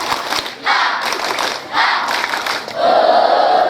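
A crowd of students at a madrasah orientation in Padang chanting and clapping Tepuk Papua together, loud rhythmic shouted bursts repeating in quick waves.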